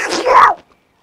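A voice imitates Daffy Duck sneezing: a single short, nasal, sputtering burst about half a second long, loud and close, ending abruptly in silence.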